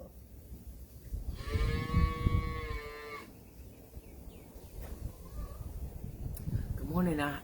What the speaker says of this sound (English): I was listening to the calf.